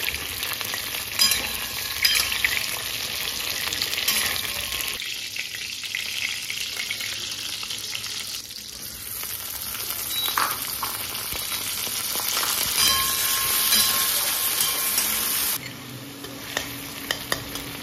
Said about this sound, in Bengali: আমি একটু হালকা ফ্রাই করে নিচ্ছি পটলগুলোকে।